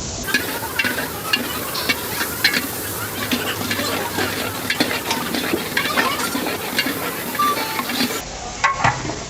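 Masala frying and being stirred in an 1852 copper pot for Kanduri mutton, a steady close sizzle with frequent scraping stirs throughout, a brief quieter stretch near the end.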